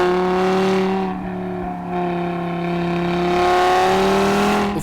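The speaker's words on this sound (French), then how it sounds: "la sonorité si particulière du 5 cylindres moteur dont la mélodie naturelle peut être magnifiée par l'échappement Sport RS" The five-cylinder engine of a 2015 Audi RS3 Sportback with RS sport exhaust holds a steady, tuneful drone that eases briefly and then builds again, loud and close, with no voices.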